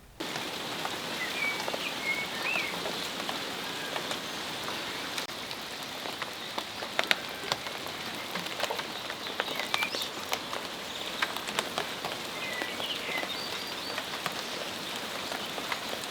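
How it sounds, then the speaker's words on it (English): Sudden torrential downpour in a walled garden, heard as dense, steady rain pattering on surfaces close by with scattered louder drops and faint birds in the background, and no one talks. "while it might look sunny 1 minute, the next minute you have a little torrential downpour"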